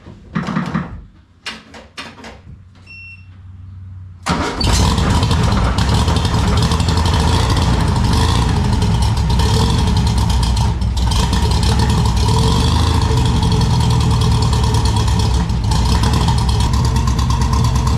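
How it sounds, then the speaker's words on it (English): An old car engine cranks and then catches, settling into a loud, steady, rough idle that runs on unbroken after a few seconds of quiet clicks and handling noises. "let's see if she starts up with the battery that I've been using to air it up"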